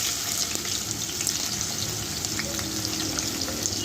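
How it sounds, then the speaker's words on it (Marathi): Chopped onion, tomato and mustard seeds frying in a few spoonfuls of oil in a pan, a steady loud sizzle and crackle with small popping spatters throughout. "आता आपण फ्राय करून घेऊ तेलामध्ये"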